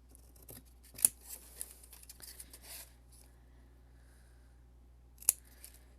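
Scissors cut teal scrap material with a few close, crisp snips, the sharpest around the start and near the end, spaced by quiet handling sounds, no talk.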